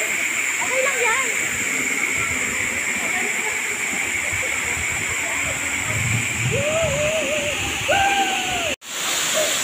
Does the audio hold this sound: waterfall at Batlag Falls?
yes